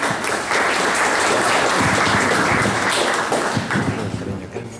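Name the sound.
applause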